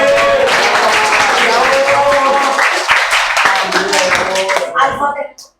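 A school class clapping hands together after group results are announced, loud and close, with students' voices chattering over the clapping before it trails off into quiet.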